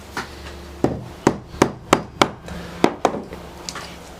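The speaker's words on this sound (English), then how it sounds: "I'm going to give it an extra little tap here to close that up." A hammer taps a metal ferrule shut on a cable restraint snare, giving about eight sharp, close knocks spaced unevenly over a few seconds with quiet gaps between strikes.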